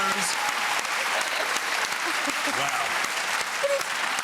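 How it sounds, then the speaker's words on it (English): A television talk-show studio audience breaks into sustained, loud, dense applause and cheering, continuous throughout, with a brief spoken exclamation over it. "Applause, please."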